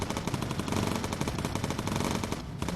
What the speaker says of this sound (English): Let's see how quickly those guns get to work.